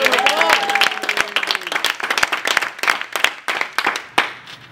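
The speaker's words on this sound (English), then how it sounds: "Let's give him a round of applause." Applause and clapping for a giveaway winner, scattered claps with a voice speaking over them at the start, then irregular individual claps that thin out toward the end.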